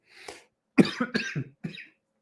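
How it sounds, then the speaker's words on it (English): A man coughs several times in a quick burst, close and loud, with a short throat-clearing cough before it and a final cough after a brief pause. "I'm gonna try not to cough into the microphone."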